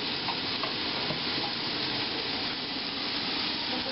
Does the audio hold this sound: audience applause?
no